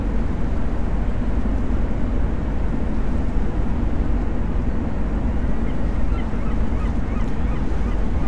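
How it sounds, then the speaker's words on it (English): Birds inside the horror video game Far From Land, a honking, goose-like flock over a dense, steady rumble of background noise, continuous and fairly loud with no talk. "I hear birds"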